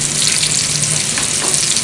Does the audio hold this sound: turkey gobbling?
no